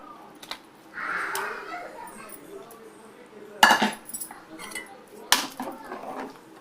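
Cut fish pieces drop into a simmering pot of curry, giving a couple of sharp metallic clinks and splashes against the vessel amid quieter kitchen handling, with a voice speaking faintly.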